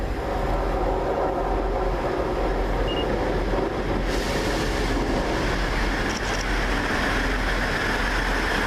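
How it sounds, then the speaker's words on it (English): A Class 158 diesel multiple unit, number 158871, arrives at a station at North Queensferry in Scotland, making a loud, steady rumble and roar that fills the whole stretch with no break. "Here comes our train, the 1742 to New Craig Hall, and it's 158871 and Simon's not happy."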